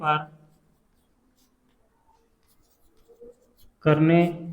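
Chalk or marker scratching on a board while working a maths problem on squares and cubes; faint, sparse scratching strokes sit between stretches of someone talking at the start and end.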